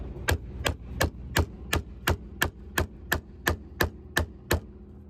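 A chisel is tapped into wood to cut a mortise, with about thirteen sharp, evenly spaced strikes in a steady rhythm, close and crisp against a quiet background.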